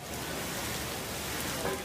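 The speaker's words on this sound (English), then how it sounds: "The rain coming down so hard, so fast, and just in time for the afternoon commute." Heavy rain from a severe storm pours down in a dense, steady roar of drops on surfaces, continuous and unbroken throughout, with no voices.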